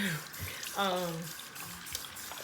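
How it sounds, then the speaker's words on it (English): Tap water runs into a sink as hands are washed, a steady close splashing stream with brief voice-like tones partway through. "I'm gonna wash my hands."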